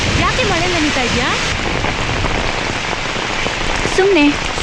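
Heavy rain falling steadily during a scene with a car outdoors, a loud dense hiss throughout, with a few short tonal vocal sounds over the top.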